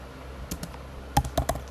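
Fingers tap keys on a computer keyboard while a website address is entered, with a few separate clicks followed by a quick cluster of keystrokes, close and clear.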